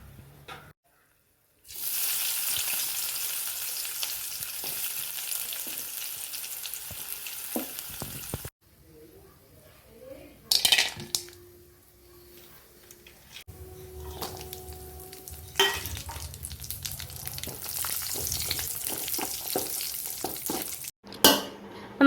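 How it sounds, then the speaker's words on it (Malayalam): Sliced onions caramelizing in ghee for a quail biryani, a sustained sizzle broken by pauses, clinks and stirring scrapes, close and fairly soft. "ആദ്യം തന്നെ നമുക്ക് സവാള കാരമലൈസ് ചെയ്ത് മാറ്റാം."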